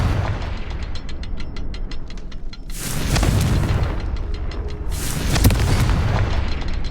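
Confringo fire spell blasts in Hogwarts Legacy, two loud booming explosions in quick succession over a dense, steady game soundscape with a faint rhythmic ticking between them.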